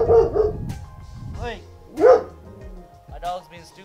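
A pet dog barks and yips in a home during an indoor workout session, a few sharp barks spaced out across the clip with a person's voice talking in between.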